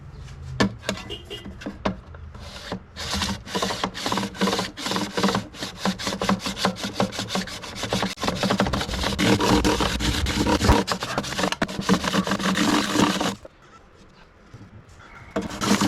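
A file rasps back and forth across the frets of an Ibanez acoustic guitar to level them, with steady, loud, close strokes that carry on without a break for about thirteen seconds and then stop.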